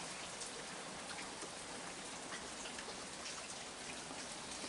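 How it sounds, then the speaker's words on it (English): Heavy rain pours down outdoors in a steady, dense hiss that stays even throughout, moderately faint, with no voices. "Yeah, it's raining good."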